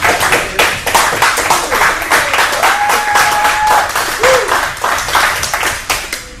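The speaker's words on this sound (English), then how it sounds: "I want to give a big round of applause to Kate Sogg for stepping up" An audience at a business mastermind meeting claps enthusiastically, a loud, continuous patter of many hands, with a brief whistle or cheer rising through it midway.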